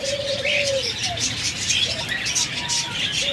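Caged Indian ringneck parrots, among other pet birds kept for sale, give short bright calls and chirps over a busy background, with someone talking throughout.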